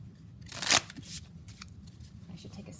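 A deck of tarot cards shuffled once in a quick riffle, a brief crisp burst close by, then soft handling and a quiet background.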